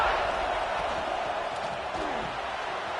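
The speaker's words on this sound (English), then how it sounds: "Listen to the crowd energy here in the early going." Stadium crowd in a college football video game, a dense steady roar of cheering fans filling the whole clip at even loudness, distant and continuous.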